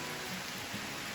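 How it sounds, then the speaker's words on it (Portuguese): Steady rain falls outdoors on the Paiva walkways, a dense, even hiss of drops hitting surfaces that fills the whole stretch with no talking. "A chuva que estragou tudo."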